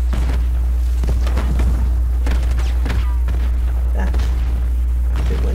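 Grenade blasts and battlefield booms in Call of Duty Black Ops 6 multiplayer on the Derelict map, low rumbling impacts and scattered gunfire recurring through the stretch over a constant heavy low hum.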